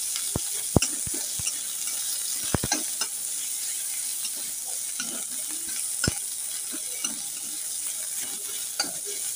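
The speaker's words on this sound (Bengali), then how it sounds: "এটা একটু ভাজা হোক।" Onion and garlic fry in a pan with a soft continuous sizzle, punctuated by several sharp utensil clicks and taps from stirring, especially early on, fairly quiet and close.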